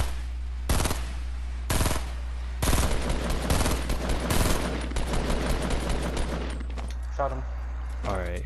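Bursts of gunfire in the video game Fortnite crack out in fast repeated volleys over loud, constant game noise, with a player's voice heard near the end.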